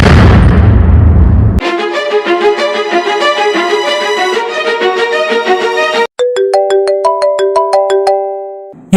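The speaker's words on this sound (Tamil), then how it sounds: "என்ன ரெண்டாவது தடவை போன் அடிக்குது?" A mobile phone ringtone plays in a Tamil animated episode, a bright melodic tune with repeating phrases that rings out loudly and alone, then shifts to a second sustained chiming pattern after a brief break.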